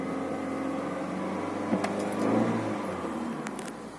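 A Honda Mobilio car engine cranks and catches on a cold early morning, a brief starter whir followed by a steady running drone with a small rise in revs.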